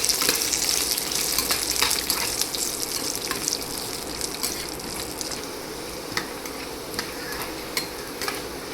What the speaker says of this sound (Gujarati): અને હવે આ બધી વસ્તુને આપણે થોડીવાર માટે શેકાવા દેવાનું છે.